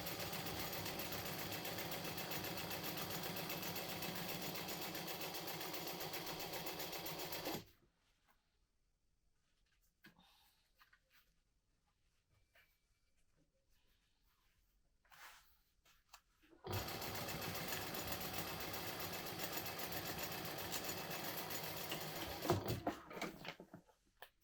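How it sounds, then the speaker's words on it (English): Sewing machine top stitching a laptop sleeve at an eighth of an inch, running steadily and close for several seconds, pausing in near silence, then resuming its continuous hum. "But I'm just going to top stitch this part at"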